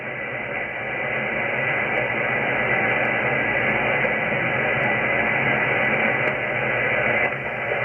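Steady hiss and crackling static on the 40-meter ham radio SSB band, heavy with noise during a solar flare. It is continuous and fairly loud, with no clear voices coming through.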